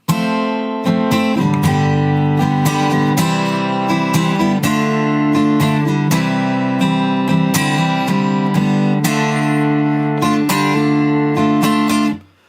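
Acoustic guitar strummed briskly with percussive, raking strokes in a steady rhythm, chords ringing loud and full before stopping suddenly.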